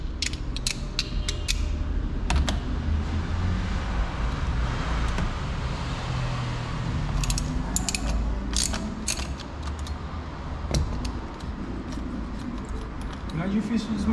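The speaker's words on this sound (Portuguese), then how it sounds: "Uma catraquinha 24 para tirar a porca aqui do meio do volante." A 24 mm ratchet clicks in quick bursts while loosening the centre nut of an original steering wheel in a car, close and sharp with mechanical creaks, as someone talks in between.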